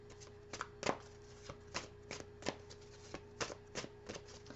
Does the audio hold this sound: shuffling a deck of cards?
yes